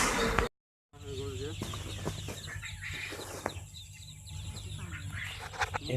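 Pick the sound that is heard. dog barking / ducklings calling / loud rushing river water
ducklings calling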